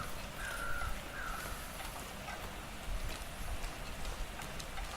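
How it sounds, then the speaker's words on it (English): A few distant crows caw in The Long Dark, two or three short calls early on over a steady background of wind and light rain-like patter, with no speech. "I can hear crows everywhere."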